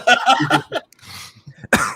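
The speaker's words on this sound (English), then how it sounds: "talking about vaping is making me cough" A couple of harsh coughs burst out near the start, then quieter rustling and a short breath, followed by another sharp cough at the end.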